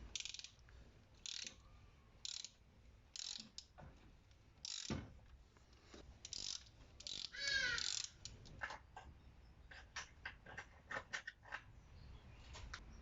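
Ratchet wrench clicking in short repeated bursts as a spark plug is tightened into the engine block of a VW Polo, close and fairly quiet, with scattered clanks between strokes.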